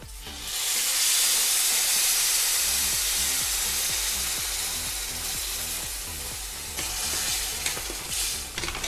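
Hot water poured into a pan of drumstick (moringa pod) vegetable curry sets off a loud, hissing sizzle that slowly settles into a steady bubbling, with stirring scrapes and a fresh surge of hiss near the end.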